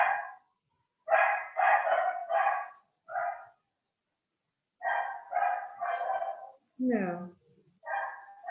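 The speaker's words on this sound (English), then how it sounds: "Sorry about the dog." A dog barks repeatedly indoors during an art workshop, loud bursts arriving in clusters of two or three with short silent gaps between them.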